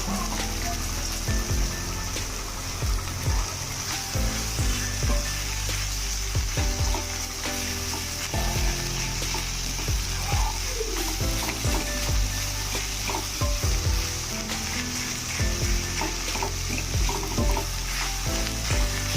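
Chopped banana stem (thor) fries in hot oil in a pan, giving a loud, continuous sizzle with occasional stirring scrapes, steady throughout.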